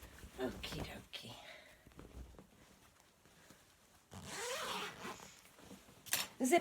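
A zip on a blue owl garden cushion cover, sewn from the Butterick EB6100 pattern for a garden swing, is worked open and closed in short rasping pulls, with a louder run of zipping near the end.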